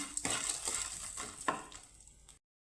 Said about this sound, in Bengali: লাল করে নিয়ে ভেজে নেব